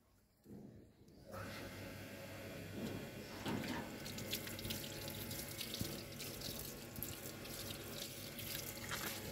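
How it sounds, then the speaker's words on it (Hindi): Water pours steadily from a motor-driven pump outdoors, a continuous rushing splash starting after about a second and holding for several seconds, with faint background voices. "रिमशा मोटर चला दे"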